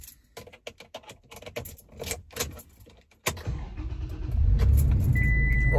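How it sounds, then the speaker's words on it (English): A Toyota Tacoma cold start: a few light clicks and rattles, then the engine turns over and catches with a sudden low roar that settles into a loud, steady idle rumble. No one speaks. "Cold start."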